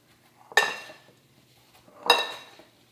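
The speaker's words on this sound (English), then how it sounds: "Now I'm just gonna go ahead and give this a mix." A utensil stirs apple pie filling with sugar, cinnamon, nutmeg and lemon juice in a bowl, making two distinct clinks against the dish, each ringing briefly and fading, with quiet between them.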